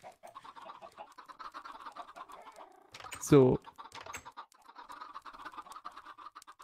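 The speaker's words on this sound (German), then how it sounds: "Kannst du mal ein bisschen leiser mit deinen Hühnern sein?" Chickens cluck in Minecraft as soft, repeated short clucks through the clip, with a brief louder burst midway and quiet talk over the top.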